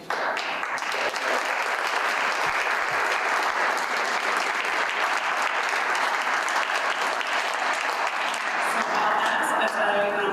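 Loud, sustained applause from a graduation ceremony audience in Boston, a dense continuous roar of clapping at even strength throughout with crowd noise mixed in.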